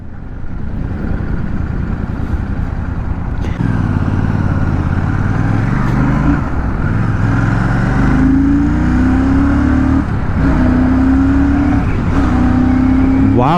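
A limited-edition Royal Enfield Shotgun 650 motorcycle engine revs hard and accelerates close by. Its loud, continuous drone climbs in pitch through several gear changes, with no talking.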